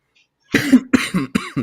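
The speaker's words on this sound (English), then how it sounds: "Coughing." A burst of harsh, rasping coughs, four or five in quick succession after a brief silence, loud and close.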